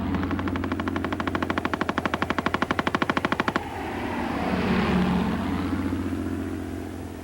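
A First World War machine gun firing one rapid, evenly spaced burst of loud shots lasting about three and a half seconds, then stopping abruptly and leaving a rumbling, engine-like drone.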